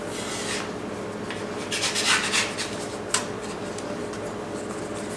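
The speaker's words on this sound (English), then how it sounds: "So my spatula again. Kind of spread the love." Spatula scraping and spreading topping across flatbread dough, a soft continuous rubbing rasp with a few louder strokes, close and alone.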